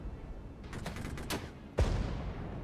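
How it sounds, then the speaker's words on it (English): Anti-tank gunfire in the strategy game Regiments, a few sharp shots crackling at a distance followed by one heavier, closer blast with a booming low tail. "We're now within range to fire anti-tank at them."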